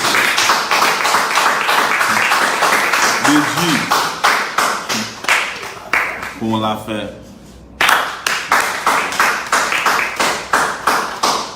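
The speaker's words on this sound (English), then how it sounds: "you guys give a round of applause to" Audience at a talk-show taping claps in rhythmic bursts throughout, with a host speaking over much of it and a brief pause before the clapping resumes loud and close.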